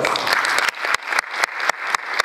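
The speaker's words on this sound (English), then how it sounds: "please give yourself a round of applause" A conference audience of teachers at a keynote address bursts into sustained applause, dense overlapping claps rolling steadily throughout with a few sharper individual claps standing out.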